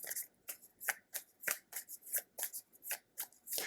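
Tarot cards are shuffled and handled close up, a quick rhythmic series of soft papery riffles and slaps, about a dozen bursts in a few seconds.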